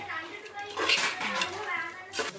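Veg biryani is stirred inside a pressure cooker, with a spoon clanking and scraping against the metal pot in quick close strokes while a voice murmurs underneath.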